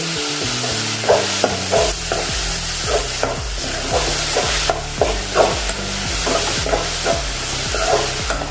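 Chopped onion and tomato masala is stirred in a hot pan, with repeated scraping strokes over a steady sizzle. The stirring is close and rhythmic, and no one speaks.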